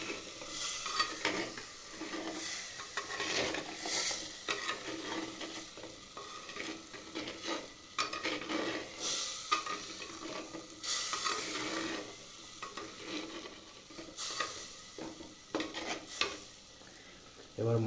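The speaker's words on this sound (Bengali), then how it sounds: "এবার বন্ধুরা হালকা হালকা কষিয়ে নেব টোটাল 3টে মশলাকে।" Spices frying with tomato paste for a chicken masala, a soft sizzle under intermittent stirring and scraping of a spoon against the pan, fairly quiet and close.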